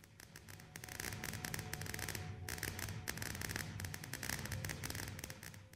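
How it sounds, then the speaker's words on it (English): Minecraft fireworks go off in a dense, continuous barrage of crackling bursts and fizzing pops, a short quiet gap breaking the run midway, heard at a fairly low level with no voices. "Celebrate your accomplishments with a awesome firework display in Minecraft."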